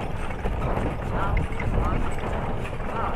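Hooves of a horse pulling a kalesa carriage in Lamitan clip-clop in a steady rhythm close by, under people talking.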